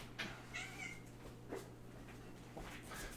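A pet cat gives several short, fairly faint meows at irregular intervals, one near the start, another around the middle and one more near the end, over a low steady hum in a quiet room.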